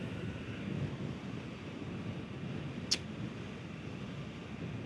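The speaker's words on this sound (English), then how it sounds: "this wind will be a real test to how good this mic system works in this helmet" Steady wind buffeting a motorcycle helmet microphone at highway speed into a headwind, a constant broad roar with one brief sharp click partway through.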